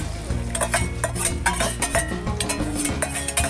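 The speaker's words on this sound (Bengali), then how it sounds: "এবার আমি আধ সেদ্ধ ডালটা দিয়ে দিলাম।" Half-boiled mung dal goes into a pan of cooked pointed gourd, followed by repeated spoon scrapes and metallic clinks against the pan, close and moderately loud, with tonal background music beneath.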